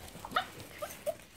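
Young pups, about seven and a half weeks old, eagerly whimper and yip for fish in a few quick high squeaks over soft background noise.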